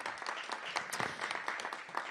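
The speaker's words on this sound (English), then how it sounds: "Give her a big round of applause." Audience applause at a police academy launch event at Anacostia High School, a fairly faint, dense patter of many hands clapping continuously.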